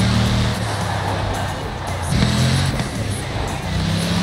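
Bugatti Veyron engine in Forza Horizon 4, a steady low drone with shifting revs, fairly loud and continuous, with some speech-like activity mixed in.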